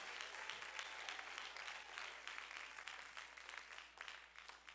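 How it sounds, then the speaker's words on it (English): A church congregation claps and shouts during a sermon, sustained dense applause with cheering voices filling the whole stretch, loud and steady without a break. "why don't you clap and shout to God?"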